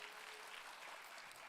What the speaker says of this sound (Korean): 여기는 그래도 박수라도 쳐주니까 너무 감사하네요